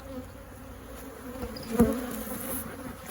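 Angry honeybees buzz around an opened single brood chamber hive, making a steady dense hum with one louder bee passing close by midway. Nobody speaks.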